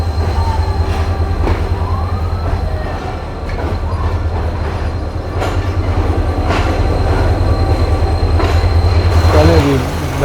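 A train led by a decorated HM30 locomotive rolls along, with a loud continuous low rumble, rhythmic wheel clatter and brief metallic squeals near the end, heard close from on board.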